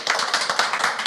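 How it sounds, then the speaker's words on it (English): A small group claps quickly and evenly for about a second, with bright, close hand slaps and no talking over them. "Round of applause, everybody."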